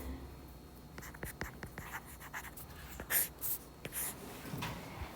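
Interval notation is written on a board as a series of short scratchy strokes and taps, irregular and fairly close, over faint room noise.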